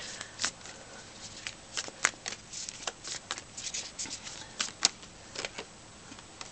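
Tarot cards being shuffled in a steady run of soft, crisp riffles and taps, close by and fairly quiet, with no talking.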